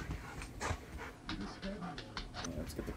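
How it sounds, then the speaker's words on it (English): Dog panting rapidly close by, with soft whimpers mixed into the quick breaths, while people talk faintly in the background. "Dog is here somewhere."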